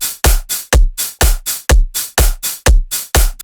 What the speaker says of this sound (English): to make Bass House you will need a Bass House beat